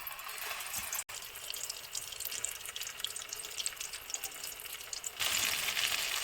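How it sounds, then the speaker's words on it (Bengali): Flattened chhana (cottage cheese) kofta pieces fry in hot oil in a kadai, giving a continuous close sizzle and crackle that briefly cuts out, then grows louder and hissier toward the end. "এবার এটাকে আমি তেলে ফ্রাই করবো।"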